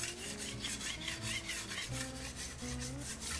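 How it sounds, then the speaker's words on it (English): A metal blade rubs repeatedly over a half-dry polished plaster surface, giving close, rhythmic rasping strokes with a faint scraping squeal, quiet and steady with no talk. "you take a metal blade and you rub it over the surface."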